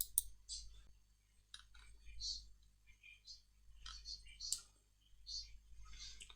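A computer mouse clicking on a Windows computer, a few sharp, faint clicks scattered among soft quiet background.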